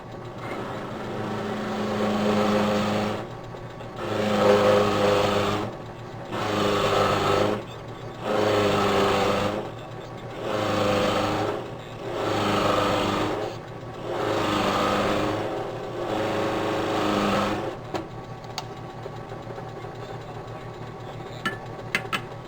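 A 3/8-inch plug cutting bit in a drill cuts wooden plugs in repeated bursts, about eight rising-and-falling whirring passes with short pauses between them, followed by quieter handling at the end.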